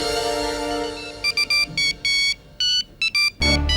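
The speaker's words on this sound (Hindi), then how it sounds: "ये शायद अवनी का फोन है" A phone ringing in an indoor drama scene, a synthetic ringtone sounding in short bright repeated bursts with brief gaps, loud and close over a faint musical background.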